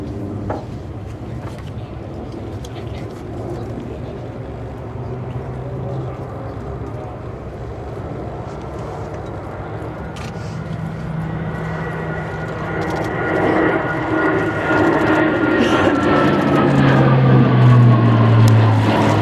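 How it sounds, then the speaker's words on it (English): A transport aircraft performing a display manoeuvre at the RIAT 2014 airshow, a steady engine roar that swells louder toward the end, with a low drone underneath and crowd noise mixed in. "Now positioning for a very unorthodox manoeuvre for a transport aircraft."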